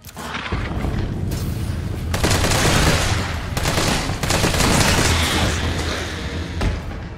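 Rapid, loud gunfire in Resident Evil 3 Remake, dense bursts of repeated shots as several magazines are emptied into a Hunter Beta, continuous and booming with brief gaps between volleys.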